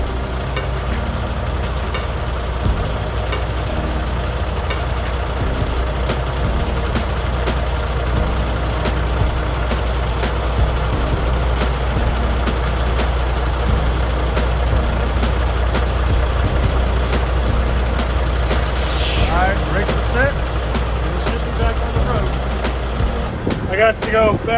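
A truck with a trailer pulling a vehicle out of an icy ditch by chain during an ice storm, its heavy engine droning steadily and loudly close by throughout, with a brief higher whine near the end.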